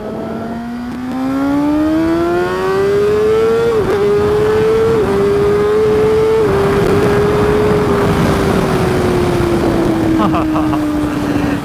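A Kawasaki Ninja ZX636 sport motorcycle revs up and accelerates steadily, its engine note climbing through several gear shifts with brief dips, loud and continuous under wind noise.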